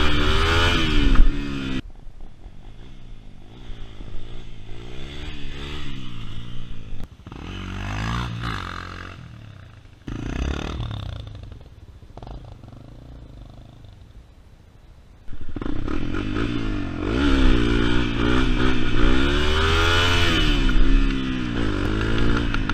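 A Honda CRF250L dirt bike engine revs up and down repeatedly in rising and falling surges for a wheelie, loud and close, easing off briefly mid-way before building back to sustained hard revving.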